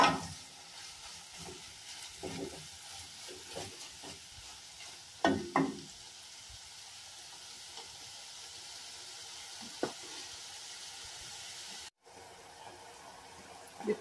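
Ground beef with garlic and onion sautéing in a pan for a pancake meat sauce, a soft steady sizzle with occasional stirring scrapes, quiet and close.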